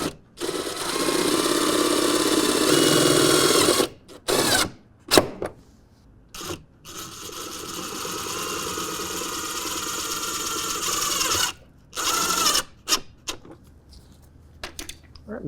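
A power drill drives a self-tapping screw into the fender of a 2024 Ford F-150 when fitting mud flaps, with long steady whirring bursts broken by short stop-start pulses.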